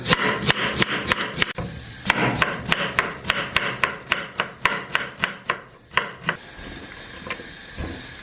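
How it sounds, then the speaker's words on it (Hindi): A knife chops ginger into long thin strips on a board, with rapid, loud, evenly spaced close strikes that slow and thin out toward the end. "तो इसको अब हम बारीक बारीक काटते हैं तरह लंबी शक्ल में।"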